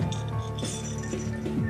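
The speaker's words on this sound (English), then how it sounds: "It's like what happens if you shake a range of colored balls out of a glass container." Colored gumballs rattling and clinking against the inside of a glass bottle as it is shaken, a steady stream of small hard clicks and chinks lasting a couple of seconds.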